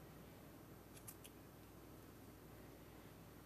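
Scissors trimming yarn ends on a crochet owl ornament, heard as a couple of quick, faint snips close by against quiet background hiss.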